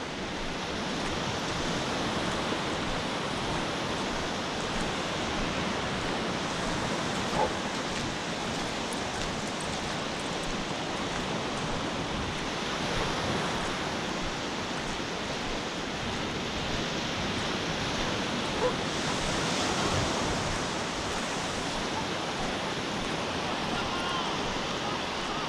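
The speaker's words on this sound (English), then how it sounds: "just listening to the ocean," Ocean waves wash onto Old Orchard Beach, Maine, a broad, steady roar of surf heard from the shore that swells gently at times with no clear breaks.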